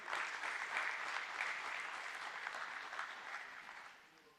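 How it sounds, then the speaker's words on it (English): Applause from a ceremony audience greets the BSE managing director and CEO as he steps onto the dais at a stock exchange listing ceremony, a steady dense clapping that holds for several seconds before easing off. "Let's welcome him on the dais with a big round of applause"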